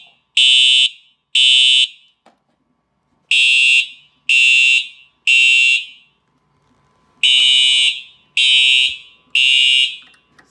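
Loud, close blasts from a Simplex 4009 IDNet fire alarm horn repeat in bursts of two and three with short pauses between groups, harsh buzzing tones and no voices.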